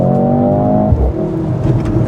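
A 2024 Mercedes-AMG C63S E Performance with a four-cylinder engine accelerates hard at full throttle, loud and close, its engine note rising and then shifting into a rougher roar partway through.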